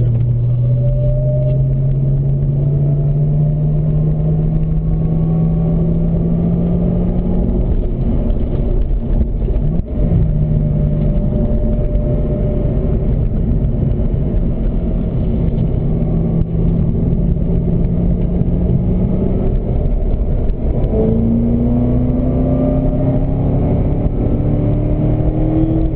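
Chevrolet Corvette ZR1 engine on a race track at Spring Mountain, a loud steady in-car drone that climbs in pitch, drops at upshifts and downshifts, and keeps roaring for the whole stretch.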